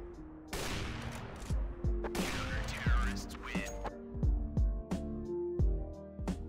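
Gunfire in CS:GO on the de_nuke map shoots through a gate in a wallbang, a run of sharp, close shots with irregular spacing, some in quick bursts, over game ambience and no talking.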